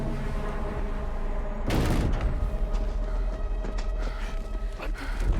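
Gunfire erupts in the video game Death Stranding 2, a sudden loud burst of shots followed by rattling, rumbling action noise, with no talk.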